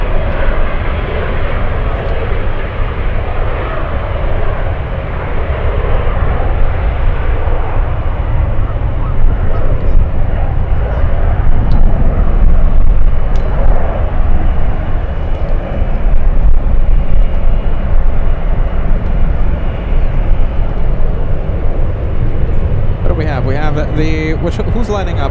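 VistaJet business jet departing San Francisco airport for Houston, Texas, a loud continuous engine roar holding steady for the full stretch, with voices talking over it.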